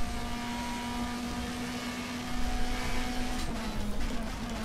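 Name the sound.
race car driving in DTM Experience racing video game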